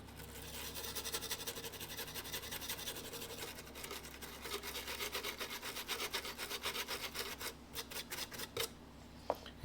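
Steady scrubbing and rasping as electrical sockets are cleaned on a vintage Datsun 521 pickup, close and continuous for several seconds before it thins into a few brief scrapes.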